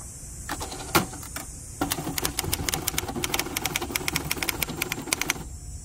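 Keys clatter on a 1964 Hermes Ambassador manual typewriter used outdoors, a few isolated strikes giving way to a quick, steady run of sharp clacks at close range over faint outdoor background.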